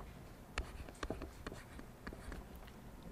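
A teacher writes a chemical formula on a board during a science lesson on naming compounds, producing a short series of tapping, scratching marker or chalk strokes with brief pauses between them, close and fairly quiet.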